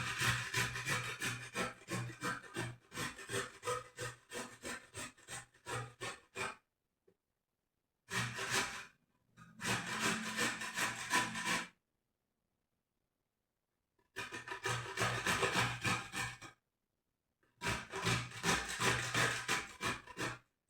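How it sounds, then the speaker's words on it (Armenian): Beetroot is grated by hand in quick rasping bursts, steady back-and-forth scraping strokes repeated in several runs with short silent pauses between them, close and alone with no talk. "հիմա քերում ենք այս գեղեցիկ բազուկը"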